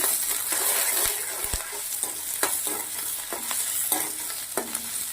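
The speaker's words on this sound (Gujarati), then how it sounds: "ડુંગળી નાખું છું. ડુંગળીને સાંતળી લેવાની છે." Onion sautés in hot oil in a kadai alongside red chillies for cheese pasta, giving a steady close sizzle broken by the scrapes and knocks of a spoon stirring, with no talking.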